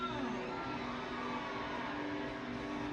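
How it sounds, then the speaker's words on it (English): A large crowd roars and cheers for Pistol Pete at a live show event, a steady, dense wall of voices holding at full level throughout with no break. "This crowd is going nuts for Pistol Pete."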